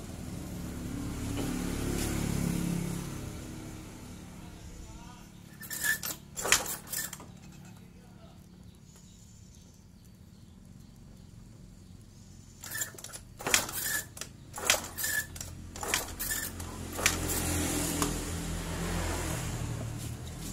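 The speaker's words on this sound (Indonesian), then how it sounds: "kita coba engkol dulu ya" Yamaha motorcycle with an ignition fault being kick-started: two bursts of brief, sharp mechanical clanks and rattles, quiet and close, with someone talking before and after.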